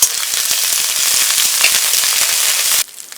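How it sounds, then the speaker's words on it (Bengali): Ginger paste with whole spices and slit green chillies hits hot oil for a paneer biryani masala, giving a loud, close, steady crackling sizzle that cuts off abruptly near the end. "আদা বাটা দিয়ে দেব।"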